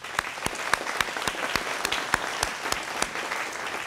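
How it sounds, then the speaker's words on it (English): Applause at the ribbon cutting ceremony for a skilled craft training center, with sharp, distinct claps from a modest crowd in a fairly regular rhythm throughout, close and clear. "So I'm going to give everyone a round of applause."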